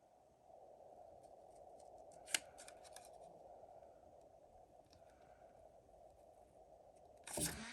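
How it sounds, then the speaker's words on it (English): Quiet indoor scissors snipping paper for a miniature DIY flower house kit, a few sharp isolated snips spread across the clip over a faint steady hum, with a louder cluster of cuts at the end. "try not to snip with the tips of your scissors inside the paper"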